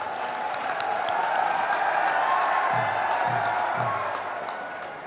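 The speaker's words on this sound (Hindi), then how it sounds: "दोनों हाथ ऊपर उठाकर जोरदार ताली बजाकर" An indoor crowd at an employment day ceremony gives sustained applause and scattered cheers to welcome the Chief Minister, a dense steady roar that fades out near the end.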